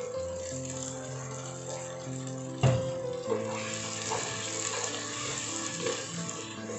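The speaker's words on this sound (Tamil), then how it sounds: "நல்லா அந்த பச்சை ஸ்மெல் போகிற வரையும் வதக்கிக்கலாம் மசாலாவை." Ground mint, coriander, green chili, tomato and ginger-garlic masala paste sizzles in a clay pot for chicken biryani. The frying hiss is steady and moderate, with a sharp clatter partway through and a low background hum.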